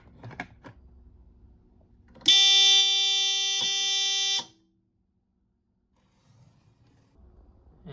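A Notifier CRL-124 fire alarm panel sounds a loud, steady electronic buzz-tone for about two seconds, then cuts off abruptly, leaving near silence with faint handling noise before and after.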